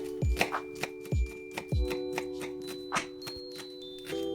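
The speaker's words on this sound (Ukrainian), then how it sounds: "Дрібненько нарізати цибульку." A knife finely chopping onion on a cutting board: a few heavy, close thunks early on, then lighter, quicker taps spaced irregularly, with a steady hum in the background.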